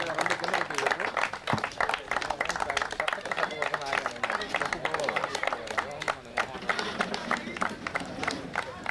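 A crowd claps at a cricket tournament award ceremony, sharp repeated hand claps running throughout beneath a loud announcer voice and general hubbub.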